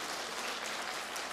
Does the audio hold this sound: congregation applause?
yes